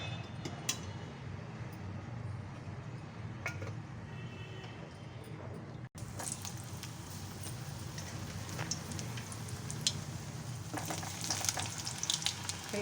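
Bitter gourd pieces fry in a generous pool of peanut oil, giving a steady, dense sizzle with occasional light clinks and stirring, close up and continuous with no voices.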